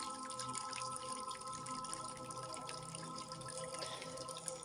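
Water flows in a stream with a soft, steady trickle and light dripping. It sounds faint and close, with no voices.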